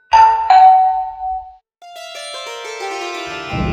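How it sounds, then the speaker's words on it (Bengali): A household doorbell rings a loud, close two-tone ding-dong, then a longer chiming electronic melody plays on, with no voices. "একজনের বাসায় গিয়ে কলিং বেল দিয়ে আমাকে কাজ শুরু করে দিই"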